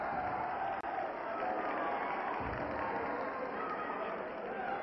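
An audience applauds and cheers a performer in a steady, dense wash of clapping that holds at an even level throughout, with voices blended into the crowd noise.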